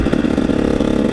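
A 2012 KTM 150 SX two-stroke dirt bike engine revs loud and close, a steady buzzing note holding throughout the short burst with no talk over it.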